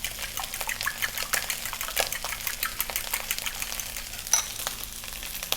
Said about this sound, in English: Quick little mix.